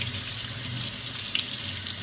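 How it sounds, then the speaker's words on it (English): A kitchen tap runs steadily into a sink while salmon is washed under the water, a loud, close, continuous splashing rush with no break and no talking. "I'm just washing the salmon off really, really good."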